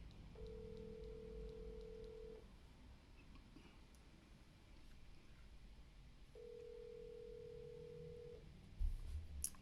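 Two long, steady telephone tones separated by a quiet gap, the call ringing out on the line against low room hiss with no one speaking.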